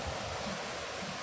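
A waterfall in Chile gives a constant broadband rush of falling water, steady and fairly close, with no talk over it.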